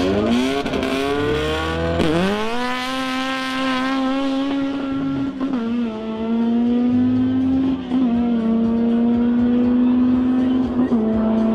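An Opel Corsa A with a C20XE engine and an Audi RS6 V10 MTM BiTurbo accelerate hard down a drag strip, their loud sustained engine roar rising through gear changes with sharp shifts, close and continuous for the whole run.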